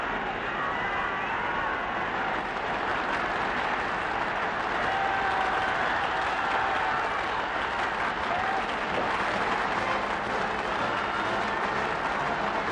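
A large crowd in Brazil in 1957 applauds and cheers a visiting Portuguese president, a dense, sustained roar of clapping and voices that fills the scene without pause.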